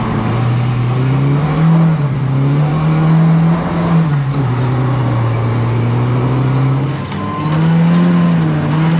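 A Lada drift car's engine drones loudly and close up, its pitch rising and falling repeatedly as the throttle is worked, with a brief dip near the end, running continuously without speech.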